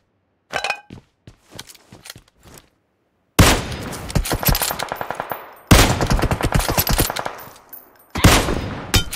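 Automatic weapons fire in PUBG Mobile, starting with a few sparse shots, then long loud rattling bursts of rapid gunfire that stop and restart, close and dominant with no speech.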